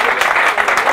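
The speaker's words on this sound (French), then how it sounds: "est-ce que vous avez apprécié les artistes qui sont passés ici par applaudissement?" Comedy club audience applause, a brief dense burst of clapping from the crowd.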